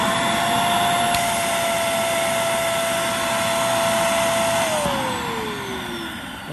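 A Shark Navigator vacuum runs with a steady roaring whine while its internal suction relief valve whistles from a clog, a high tone that holds and then slides downward near the end.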